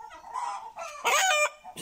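A rooster crowing nearby in a poultry yard, loud and close, one full cock-a-doodle-doo lasting about a second with brief clucking before it.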